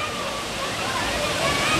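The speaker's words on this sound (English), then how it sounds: "way over there you'll see a waterfall" A natural waterfall at a swimming pool complex gives a continuous broadband rush of falling water, steady and fairly loud, with faint sloshing in the mix.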